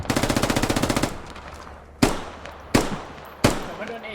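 Gunfire in the military shooter Squad: a rapid automatic burst of about a dozen evenly spaced shots, followed by three separate heavy single reports spaced roughly a second apart, moderately loud with some reverberant tail.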